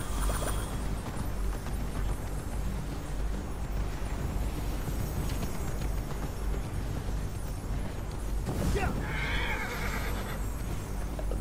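A horse in the action-adventure game Immortals Fenyx Rising whinnies over a steady wash of game ambience and music, with a short burst of hoof or movement noise near the end.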